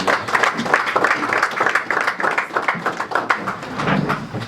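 A church congregation claps at a memorial service for Papa Patrice Musuamba Kabambi, a dense, continuous round of applause from many hands in a hall, with some voices mixed in.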